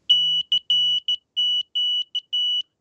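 A piezoelectric sounder on a clothespin CW keyer beeps sharply at a high pitch, sending a quick rhythmic string of short and long Morse tones with no voices over it.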